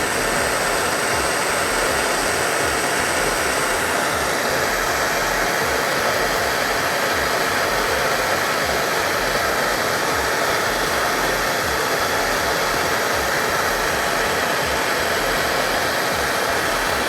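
A Nortel Mega Minor glassblowing torch burns with a steady, loud, hissing roar as its flame heats glass, unbroken from start to finish with no voices.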